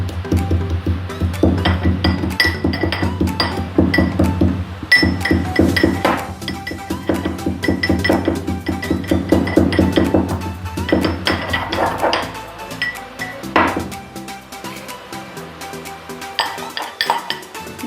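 Cardamom pods are pounded to crush them, giving repeated metallic clinks and thuds in an uneven rhythm, loud and close, with clatter of pots and utensils.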